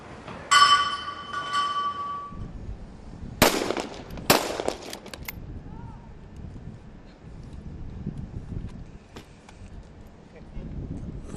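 Sharp sniper rifle shots crack out during a SWAT challenge, two loud reports a second apart following a ringing metallic ping, then quieter shuffling and background talk.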